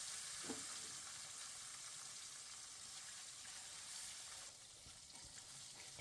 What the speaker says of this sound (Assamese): এতিয়া এপিচ এপিচকৈ প্ৰায় মই মাছখিনি ভাজি লওঁ।